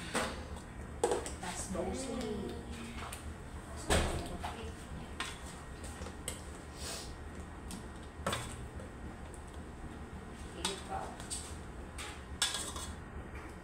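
Chicken pieces going into a pan for a creamy chicken dish, with soft clinks and scrapes of utensils against cookware, scattered knocks over a quiet kitchen background and a little talk.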